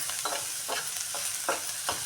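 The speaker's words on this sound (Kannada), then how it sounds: "ಇದು ಸ್ವಲ್ಪ ಎಣ್ಣೆ ಹಾಕ್ಕೊಂಡು ಫ್ರೈ ಮಾಡಿಬಿಟ್ಟು ಇದೇ ಬಾಣಲೆಯಲ್ಲೇ ನಾನು ಇದನ್ನು ಪಲ್ಯ ಒಗ್ಗರಣೆ ಹಾಕ್ತೀನಿ" Radish seed pods stir-fry in hot oil in a pan, with a steady close sizzle broken by four or five regular scraping stirs.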